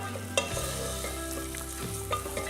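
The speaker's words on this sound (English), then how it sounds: "I'm going to add in a cup of long grain rice and add those in and stir quickly to get that fideo mixed in" Long grain rice and fideo noodles are stirred into softening onion in a hot pan, giving a steady sizzle and a scraping stir, with a couple of sharp clinks against the pan.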